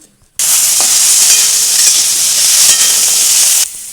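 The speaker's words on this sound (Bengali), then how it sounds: "আলুগুলো ভাজা হয়ে গেছে" Potatoes fry in a pan for a bottle gourd curry, giving a loud, steady broadband sizzle that starts abruptly after a short silence and holds evenly, with faint scraping stirs underneath, before cutting to a quieter tail.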